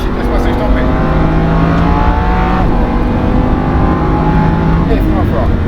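Loud, steady engine roar of a Lamborghini Huracan accelerating on the Le Mans circuit, heard from inside the car as a dense, sustained drone that climbs slightly in pitch.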